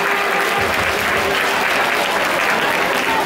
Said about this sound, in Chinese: 没关系，给林志平掌声鼓励